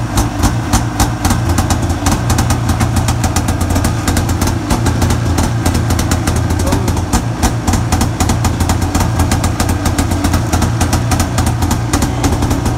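A small Arctic Cat 570 snowmobile engine idles steadily at -40 degrees, a rapid, even chugging throb, close and loud, running without pause the whole time.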